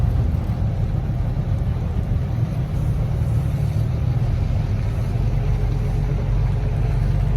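A vehicle towing a trailer pulls out of a mud pit, making a steady, loud, low engine rumble that holds without a break throughout, with no voices.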